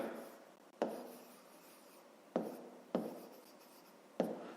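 A pen or pencil writes out a math problem on paper, giving soft scratchy strokes with four sharp taps as it touches down, close and quiet, with no talking.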